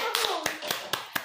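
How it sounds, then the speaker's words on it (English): A handful of separate hand claps, about five sharp slaps spaced unevenly over a second, ring out close by at a family lunchtime game, with a voice faintly underneath. "please give her a clap hands"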